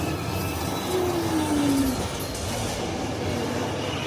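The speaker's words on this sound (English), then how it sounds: "Well, the tram is moving" A Universal Studios Hollywood backlot tour tram rumbles steadily along the track with a constant droning roar and a brief rising wheel squeal, heard from inside.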